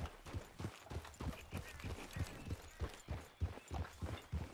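Horse hooves clip-clop at a steady trot in Red Dead Redemption 2, a run of close, even thuds continuing throughout with no talk over them.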